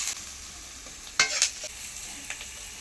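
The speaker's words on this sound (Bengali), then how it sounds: "পেঁয়াজ ভাজতে তো বেশি সময় লাগে" Onions frying with salt in a pan, stirred with a spoon: a steady soft sizzle with a few brief scraping strokes near the middle, close and fairly quiet, with no talking.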